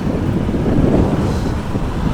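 Strong, cold wind buffets the microphone in a continuous low roar, gusting unevenly with no voices over it, during a bike ride to Tagaytay.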